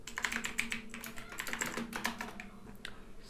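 Rapid keystrokes on a computer keyboard while a spreadsheet-style formula is entered, an uneven run of close, light clicks that thins out toward the end, with no talk.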